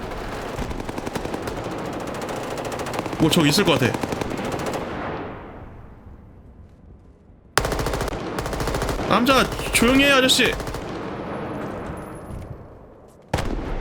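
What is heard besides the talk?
gunfire in Roblox DEADLINE shooter video game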